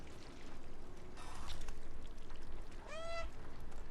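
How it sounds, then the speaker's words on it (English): A cat in the video game Stray lets out one short, rising meow near the end over a steady murmur of background ambience, with no talk. "We don't want you meowing."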